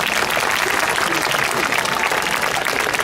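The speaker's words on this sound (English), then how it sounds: "Give them a nice big round of applause." Crowd applause at a zoo elephant show, steady dense clapping from many spectators throughout, fairly loud and continuous without a break.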